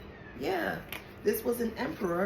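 A pet cat meows several times in quick succession, with drawn-out wavering cries close to the mic, while someone talks at the same time.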